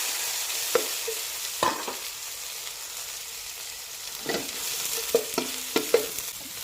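King oyster mushrooms are stirred and scraped around a hot pan with chilies in scattered bursts, with a quiet sizzle underneath and no talking.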